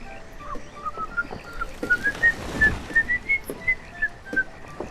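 A person whistles a steady, wavering melody along with the music of the city-building game Banished, clear and fairly close over a soft background bed, with no speech.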